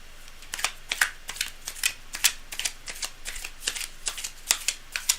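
A deck of tarot cards is riffled and shuffled repeatedly near the microphone, producing a series of crisp, irregular flapping bursts with short pauses between them.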